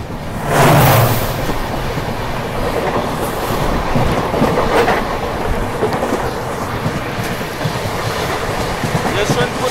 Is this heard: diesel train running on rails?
yes